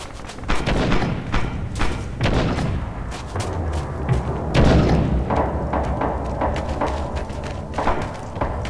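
Grenade explosions and gunfire boom and crack through a Red Orchestra 2 battlefield, with dense, heavy thuds and sharp shots rolling one after another, loud and continuous.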